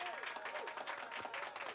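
A crowd claps steadily and densely for under two seconds during a Star Stable Jorvik news segment, a continuous mid-loud patter of many hands with no pauses.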